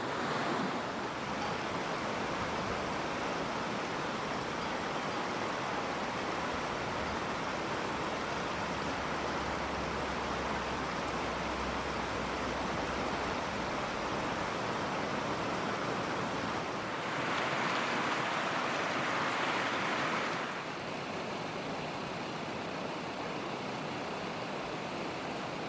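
A river rushes steadily beside a chilly riverside campsite near a road, a dense, continuous roar of flowing water that swells slightly partway through, with no voices.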